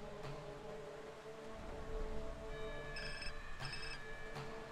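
A telephone ringing in the video game GTA San Andreas, a few short electronic rings toward the end, faint over a low ambient hum and background game noise.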